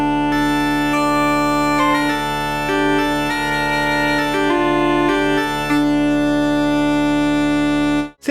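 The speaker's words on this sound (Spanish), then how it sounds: "El último instrumento que agregaron se llama Uilleann Pipes, y nos trae una gaita irlandesa" Uilleann pipes, an Irish bagpipe virtual instrument from Spitfire Labs on its chanter preset, play a steady reedy melody over sustained low drones for about eight seconds. The sound is loud and continuous with no talking.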